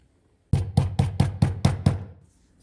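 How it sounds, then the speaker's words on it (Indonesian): Seven loud, close knocks in a steady rhythm on the door of a house at the end of an alley, sounding alone against quiet, with a short fade after the last rap. "Aki Karma mengetuk-ngetuk pintu rumah Pak Asep"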